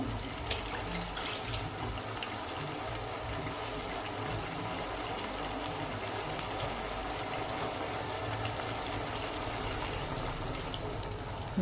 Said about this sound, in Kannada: ಇದಕ್ಕೆ ಸ್ವಲ್ಪ ನೀರು ಹಾಕ್ಕೊಳಂಬ್ರಿ.